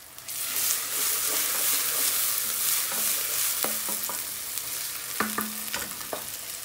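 Nigella seeds toasting in hot oil in a pan, giving a loud, steady sizzle with a few light metallic taps and scrapes near the end, with no voices.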